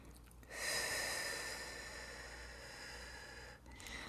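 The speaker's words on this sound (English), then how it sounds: "breathing in, breathing out" One slow, airy breath is drawn in and then let out, close to the microphone and soft, over a faint background hiss, with a second breath beginning at the end.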